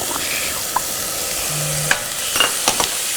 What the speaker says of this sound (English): we're going to add the garlic and the ginger right now